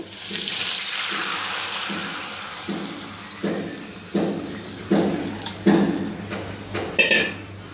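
Water is poured in repeated splashing bursts into a vessel holding horse gram flour dough, the pours growing louder and more spaced after an initial steady stream.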